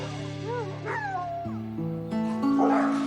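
Ray, an abandoned dog at a shelter, lets out high, wavering whimpers and sharp yips in a quick, close run of cries.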